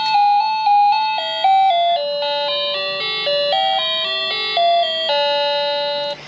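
A cheap wireless doorbell plays its second chime tune, a clear, loud sequence of bright electronic tones stepping up and down in a steady melody for several seconds, with no voices.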